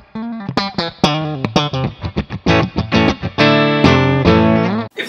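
Electric guitar on its bridge pickup with a bright, Telecaster-like twang from brass saddles, playing a run of plucked single notes and chords with effects, loud and alone with no talk.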